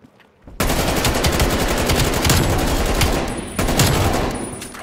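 Automatic gunfire in Call of Duty: Cold War: loud, dense rapid-fire bursts, one long sustained stream followed by a second burst after a brief dip, with no talking.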